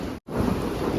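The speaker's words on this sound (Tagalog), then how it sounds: "Pero lakas ng ulan." Heavy rain pouring steadily outdoors, a dense continuous wash of noise after a brief cut, with no voices.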